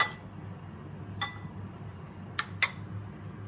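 Cheese being mixed in a bowl gives a few sparse, sharp clinks of a utensil against the bowl over a quiet background, close and distinct, with no voices.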